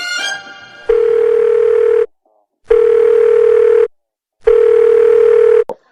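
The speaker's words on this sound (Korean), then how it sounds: "전화통화 연결해서 한번 얘기를 들어보도록 하겠습니다" Telephone ringback tone heard as a call is put through, three long steady buzzing pulses separated by short silences, loud and alone with no voices.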